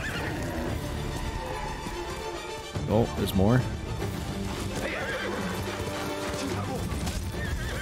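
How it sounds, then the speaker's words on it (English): In Ghost of Tsushima, a horse whinnies loudly mid-charge over rhythmic galloping hooves and game music, with a crash of knocked-down enemies; someone speaks briefly. "Hold L1 to activate horse charge and knock down groups of enemies."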